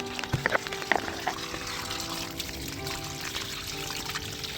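Water pouring and splashing close by in a vegetable garden in Oman after heavy rain, with a few sharper splashes early on, then a steady running flow.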